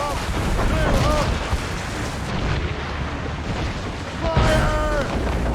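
Ship cannons boom in the naval combat of Assassin's Creed Rogue, heavy blasts rolling out amid crashing sea and battle noise, with shouted voices between the volleys.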